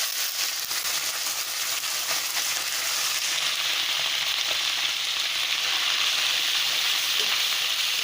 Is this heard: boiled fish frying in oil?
yes